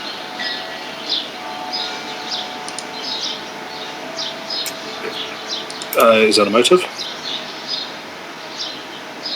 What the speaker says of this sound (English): are you outside listening to the birds?